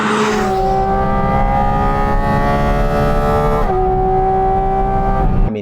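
A Porsche GT4 with a 4.5-liter engine and manual gearbox revs high, its clear tonal wail holding strong and loud, dipping briefly in pitch partway through before climbing again and cutting off abruptly near the end.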